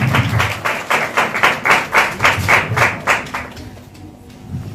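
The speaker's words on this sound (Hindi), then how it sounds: "ताली मारी दो" An audience claps together at a Christian gathering, with rhythmic bursts of applause roughly every half second that fade out after about four seconds. The sound is close and fills the room.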